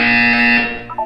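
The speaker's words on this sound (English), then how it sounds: "You will hear a buzzer." A loud electronic buzzer from the game Portal 2, a harsh steady tone held for about half a second, then fading as a brief higher electronic blip follows.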